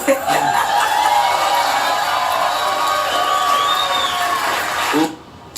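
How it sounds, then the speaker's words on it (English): A studio audience cheers and roars loudly and continuously with whoops and laughter mixed in, then cuts off sharply near the end. "That crowd roars"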